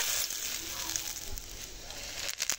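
Two bay leaves go into hot oil in a wok, giving a close, steady hissing sizzle with faint crackles throughout and a few small knocks near the end.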